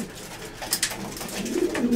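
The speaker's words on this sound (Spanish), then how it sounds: "las palomas van trabajando bien" Racing pigeons in training for an 800 km race coo softly and steadily close by in their loft, with no voices.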